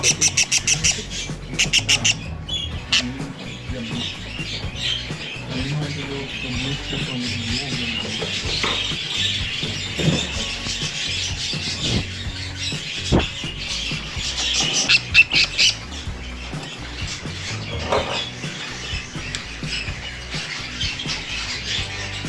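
Birds at an aviary give repeated harsh squawks and calls throughout, with bursts of sharper squeals standing out over a steady background of chatter and rustle.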